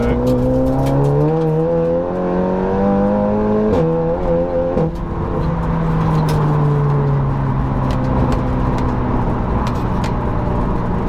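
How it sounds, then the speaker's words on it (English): A two-litre SEAT Cupra front-wheel-drive track car at speed, its engine droning loud and close with rising and falling pitch through gear changes, while road stones flick and patter steadily into the wheel arches throughout. "You can hear all the stones flicking up off the road."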